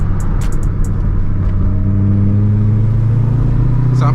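A C6 Corvette engine revs hard through the gears, a loud, close, continuous roar with rising pitch that climbs steadily across the run, no voices over it.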